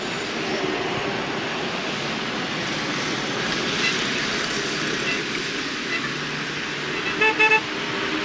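Cars and motorbikes in the press convoy following the 1976 Paris–Roubaix cycling race make a continuous engine roar and road rumble, with short car-horn toots near the end.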